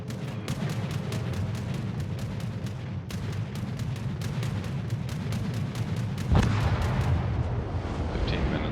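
Naval gunfire in the World of Warships video game, with rapid, rhythmic thumping salvos over a constant rumbling engine and sea bed, a heavier blast near the end, with no talk.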